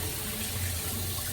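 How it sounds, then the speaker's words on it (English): Tap water runs steadily while shaving gear, a boar brush, is rinsed out at a sink; a close, continuous broadband hiss of flowing water with no speech over it. "Let me just rinse this out a tad bit."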